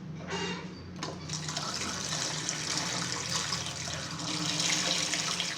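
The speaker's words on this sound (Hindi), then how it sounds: "अब 1 लीटर पानी डालेंगे।" Water poured into a pot of kadhi (blended yogurt and gram flour) on the stove, a steady splashing pour at moderate level that runs alone for several seconds and swells slightly near the end.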